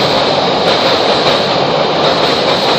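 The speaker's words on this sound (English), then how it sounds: "that train is coming again!" A train rumbles past close by as a loud, continuous roar of wheels on rails, steady throughout with faint clickety-clack and no speech.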